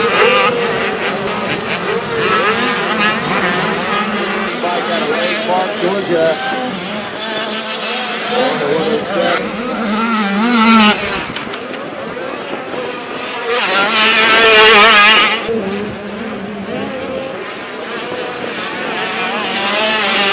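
Dirt bikes racing after the gate drop at a motocross track, engines droning and rising continuously through the stretch with a louder surge near the middle, loud and close, with people talking over it.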